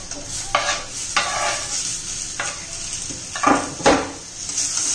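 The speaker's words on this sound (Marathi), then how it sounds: "त्यात आता टोमॅटो घालून घ्यायचा आहे." Chopped tomatoes go into a pan of onions frying until browned, bringing a steady close sizzle broken by several sharp scrapes and clinks of a spoon stirring against the pan.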